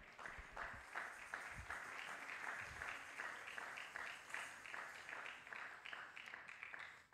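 A church congregation applauds and cheers at a French-speaking service, sustained rhythmic clapping in waves that carries on steadily for several seconds with voices mixed underneath.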